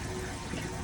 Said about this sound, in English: So now the tank's got to fill up again.